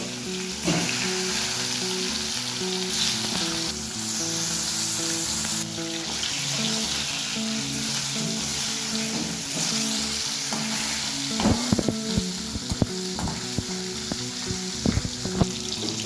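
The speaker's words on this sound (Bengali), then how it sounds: "এবার বাকি মাছগুলো ওই তেলের মধ্যে দিয়ে দেবো।" Fish pieces sizzle in hot cooking oil in a home kitchen, a loud continuous frying hiss. Clinks and scrapes of stirring and handling come in toward the end, and no one speaks.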